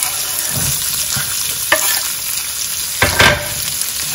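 Onions fry in a pan with cumin seeds and curry leaves, a loud steady sizzle up close, broken by a few scraping stirs and louder bursts of crackle.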